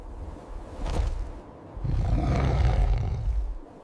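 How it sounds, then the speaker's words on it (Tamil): A huge Siberian tiger roars on a mountain path: one short growl, then a long, deep, rumbling roar that builds and trails off, loud, close and alone. "ஒரு பிரம்மாண்டமான சைபீரிய புலி அவர் முன்னால் வந்து நிற்கிறது."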